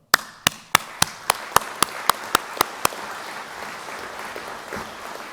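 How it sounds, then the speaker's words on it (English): Hands clap about eleven times in an evenly spaced, crisp rhythm at a presentation, then give way to quiet room tone. "I'm going to start by giving you all a round of applause."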